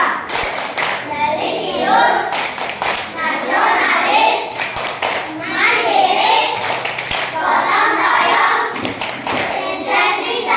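A class of children performs a rhythmic greeting clap, bursts of patterned hand claps alternating with their chanted voices, loud and close in a classroom.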